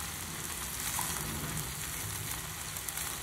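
Cooked rice is gently folded from bottom to top in a frying pan on the heat, giving a steady low sizzle with soft scraping of the stirring, close and continuous with no voices.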